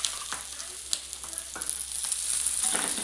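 A paratha fries in oil on a hot pan with a steady close sizzle, broken by a few soft clicks and scrapes as it is turned.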